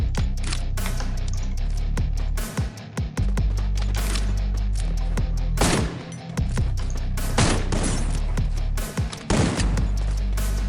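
Rapid bursts from an MP5 submachine gun mixed with heavy Desert Eagle pistol shots in the mobile shooter Free Fire, loud and nearly continuous, with short gaps between volleys.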